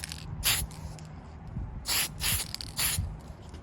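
Short hissing bursts of spray paint on a clear Lexan RC car body, about five quick blasts of varying length, close and sharp over a faint low background hum, no speech.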